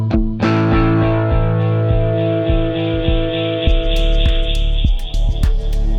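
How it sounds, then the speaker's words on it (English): A Shift Line Everest II delay pedal feeding into self-oscillation and distortion, a sustained, heavily distorted droning tone with rhythmic repeating pulses that builds into brighter, crackling repeats, loud and continuous. "the pedal will go into self-oscillation and distortion faster than with the others"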